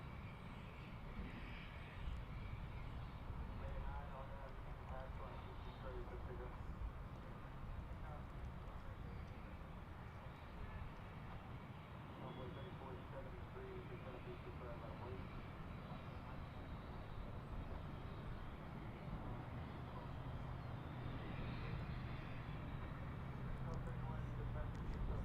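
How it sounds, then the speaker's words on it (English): A Finnair Airbus A350 jet at DFW airport gives off a steady, fairly distant engine roar that holds at an even level throughout, with no sharp peaks. "Good old Finnair. I love when they send the A350."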